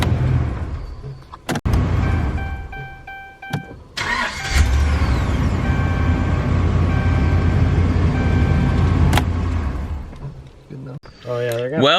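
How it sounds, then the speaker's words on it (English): A Dodge truck starting after an ignition repair: a brief starter crank catches, then the engine settles into a loud, steady idle, with a couple of sharp clunks and a short voice near the end. "we're gonna go ahead and start the truck and make sure that it starts first try"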